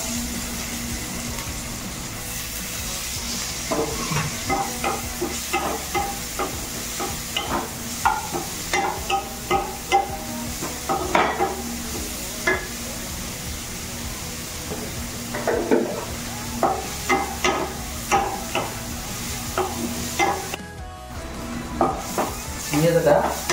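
Chilli and onion fry and get stirred in a clay pot for soybean dalma, with steady sizzling under repeated scraping and clattering strokes of a spoon, close by and fairly loud.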